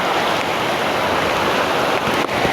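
Floodwater from a typhoon surges into a house, a dense, steady roar of rushing water filling the whole clip at close range with no voices.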